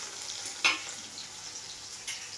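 Two chilies frying lightly in oil, a soft, steady hiss with one sharp pop or stir near the start, close by and without voices.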